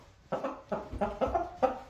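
A young fighting rooster clucks close by in a steady series of five short, throaty calls spaced about a third of a second apart, with no voices.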